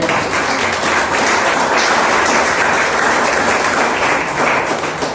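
A church congregation bursts into loud, sustained applause during a service, many hands clapping close and thick for several seconds with no talk.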